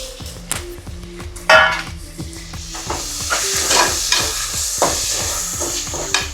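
Chopped tomatoes are stirred into a sizzling soya bean biryani masala with mint and coriander, a spoon knocking repeatedly against the pot. Steady frying hiss runs underneath, with one sharp splash-like burst as they go in.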